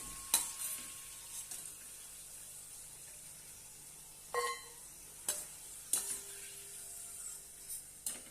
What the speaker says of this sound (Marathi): अशा पद्धतीने सर्व चिप्स तळून घेऊया